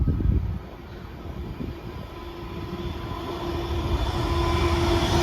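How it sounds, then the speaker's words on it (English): An Avanti West Coast passenger train from Liverpool Lime Street to London Euston runs through Watford Junction station, a broad rushing rumble that swells steadily as it passes close by. "we're going to have a passing Avanti West Coast service from Liverpool Line Street to London Euston"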